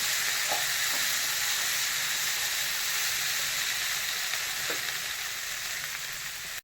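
Curry leaves hit hot oil in a kanthari chicken curry, raising a steady, loud sizzle that holds evenly throughout with a few faint pops and no voices.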